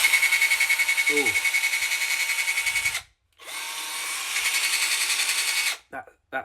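Cheap cordless drill bought on Amazon, run in two long bursts with a brief stop between, its steady high-pitched motor whine rising and pulsing slightly, close and loud, followed by a few short blips.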